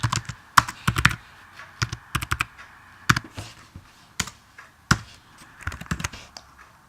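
Typing on a computer keyboard while entering C++ code in Xcode, irregular close clicks and taps in quick clusters with short gaps, no voices.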